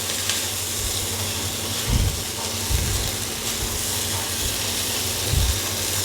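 Boiled taro frying with spices in a pan, a steady loud sizzle and hiss with a few soft stirring thumps scattered through.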